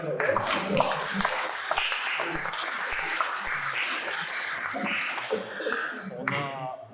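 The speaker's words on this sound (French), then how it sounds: "on continue à applaudir" Audience applause at a lecture on the 1944 liberation of the Sundgau in Alsace: a sustained crowd clapping wash, fairly close and steady, with voices and a chuckle mixed in toward the end.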